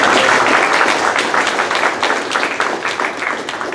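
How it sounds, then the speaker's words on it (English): A round of applause for an honoree at a club meeting: close, fairly loud clapping from a modest group, dense at first and thinning slightly toward the end. "So give her a round of applause as well."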